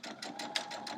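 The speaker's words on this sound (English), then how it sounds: "And then keep sewing." A sewing machine stitches fabric pieces for a quilt block in a quick, even rhythm of about five pulses in a second, close and continuous, with no talk.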